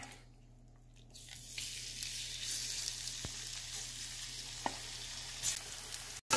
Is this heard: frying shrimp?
yes